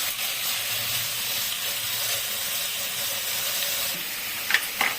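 Green jackfruit fries in a pan with a steady, even sizzle and hiss throughout, ending with a couple of brief sharper crackles or clinks near the end.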